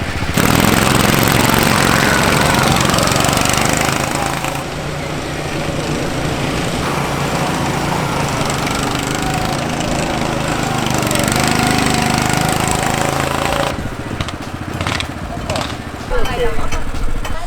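Small drift car engine revving in the Japanese mountains, a loud, continuous buzzing drone close by that eases slightly midway and drops away near the end, with someone talking over it.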